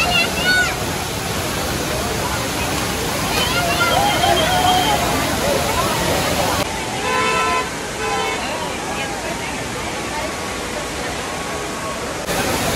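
Amboli waterfall roars as a constant loud rush of water at a crowded viewpoint, with people talking and faint traffic noises mixed into the roar.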